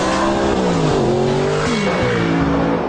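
An Audi R8 sports car, its maker's fastest production road car, accelerates hard with a loud, rising engine note. Gear changes punctuate the pull, and faint tyre noise sits beneath it, with no talking.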